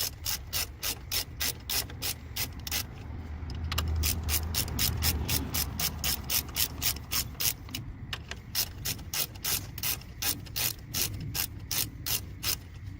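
Rapid, steady clicking of a hand ratchet tightening bolts on the front brakes of a 1995-2007 Ford Econoline van, a loud, close run of evenly spaced ratchet clicks that continues throughout with no talking.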